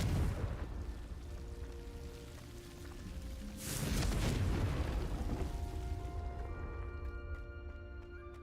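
A Confringo fire spell goes off in Hogwarts Legacy with a deep, rumbling boom that swells midway and then fades into a crackling, rain-like tail over a low background.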